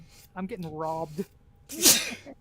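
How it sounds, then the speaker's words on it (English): A person sneezes once, sharply and loudly, close by during a gaming stream, after someone speaks briefly. "I hate sneezing so goddamn much."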